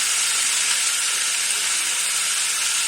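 Chicken pieces frying with onion and a little turmeric in a pan, giving a steady, dense, loud sizzle that holds evenly throughout with no voices.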